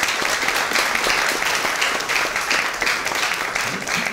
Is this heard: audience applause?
yes